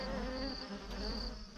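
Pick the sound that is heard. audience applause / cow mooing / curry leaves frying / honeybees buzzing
honeybees buzzing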